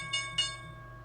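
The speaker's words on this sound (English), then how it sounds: "There is the bell." A stock market opening bell rings twice in quick succession, two bright clanging strikes whose tones linger and fade, heard faintly with no talking.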